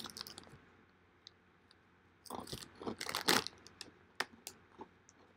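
Lorenz Pomsticks, cheesy corn snack sticks, crunched between the teeth: close, dry bursts of crackling crunches that start sparse, then cluster into a loud run of bites and chewing.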